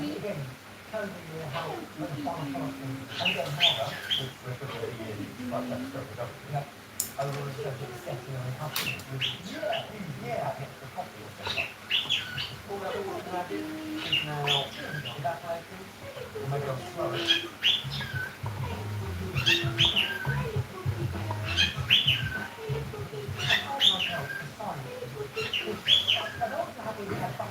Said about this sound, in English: If you guys hear a noise in the background, that is my bird.